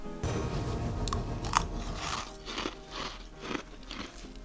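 Bead ice cream scooped from a shoe and eaten gives crisp crunching and clicking bites in quick irregular bursts, close and fairly soft.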